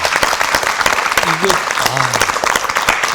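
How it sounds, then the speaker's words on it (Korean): Studio audience clapping on a Korean morning talk show, a dense patter of hands under continuing talk and a brief comment. "우리 박수 쳐도 되잖아요."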